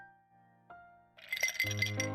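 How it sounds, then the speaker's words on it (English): Ice cubes clink against a glass in a video game, a burst of bright chiming clatter that starts after a quiet hum and rings on to the end. "There's some ice cubes in it."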